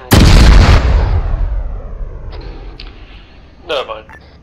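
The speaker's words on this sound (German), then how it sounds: "I had a premature detonation." Sudden loud blast of an IED detonating prematurely during a military training exercise, a sharp bang followed by a long rumbling decay, with faint crackles and a brief burst later in the tail.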